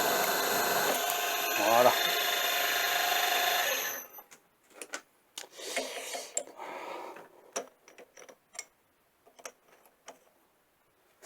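Metal lathe machining a second handle for a welding table clamp, a bright whirring and cutting hum for about four seconds that then stops, followed by scattered clicks and handling noises and a brief spoken word.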